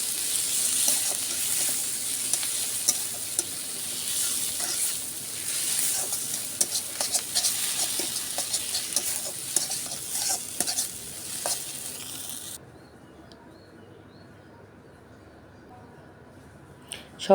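Chopped coriander leaves and tomato sizzle loudly in a pan for a spicy village-style fish mash, with constant frying hiss and frequent spatula scrapes, close up; the sizzle cuts off abruptly near the end, leaving quiet.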